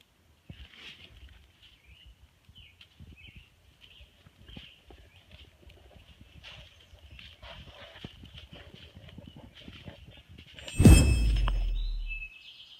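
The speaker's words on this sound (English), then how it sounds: "we came across some horses, but these ones aren't wild" Horses in a fenced barn area along the Appalachian Trail, with soft, irregular hoof clops and rustling at close range, birds chirping faintly, and a sudden loud thump near the end.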